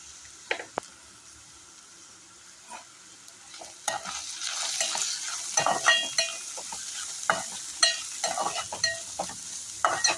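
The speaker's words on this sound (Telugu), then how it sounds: "ఆనియన్స్ ఆల్మోస్ట్ కుక్ అయ్యాయి" Onions fry and are stirred in a pan while an onion and egg curry is cooked. A quiet sizzle builds after a few seconds into louder, close scraping and stirring strokes over a steady hiss, with no voices.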